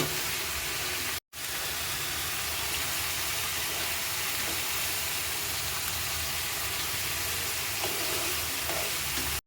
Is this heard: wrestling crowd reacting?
no